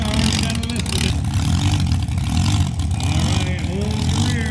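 A show car's engine revving at a street car show cruise, loud and steady throughout with a dense low rumble, while crowd chatter and voices run underneath.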